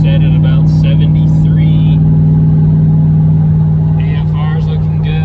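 LSA supercharged GMC pickup cruising at about 73 mph on a highway, a steady loud engine hum and road drone filling the cab while people talk over it.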